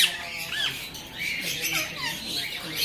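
High-mutation finches in an aviary give quick, scratchy squawks and chirps that overlap in a busy, fairly loud chorus, with no talking heard.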